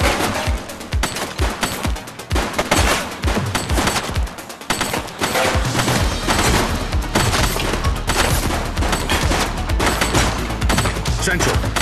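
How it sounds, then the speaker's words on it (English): Gunfire in the police video game The Precinct, rapid bursts of shots with booming low-end hits and dense continuous firing, loud and close throughout, with a voice briefly heard. "He's shooting!"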